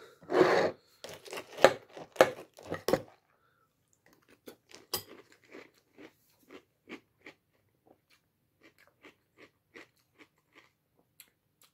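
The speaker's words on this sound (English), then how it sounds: "Eat some cereal." Someone munching crunchy cereal up close, a run of loud crisp crunches at first, then slower, fainter chewing bites spaced out over the rest.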